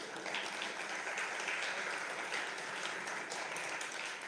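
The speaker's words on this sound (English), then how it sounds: "applause for everybody" Sustained applause from an audience at an LSU Science Café talk, a steady wash of many hands clapping at moderate distance, with no speech over it.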